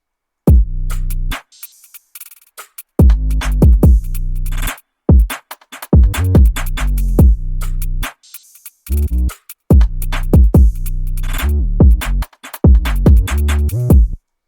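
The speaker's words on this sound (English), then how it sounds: "I clip my kick at around" A trap-style beat with heavy kick hits clipped and saturated, pounding in a steady rhythm alongside other percussion, loud and dense, no voices.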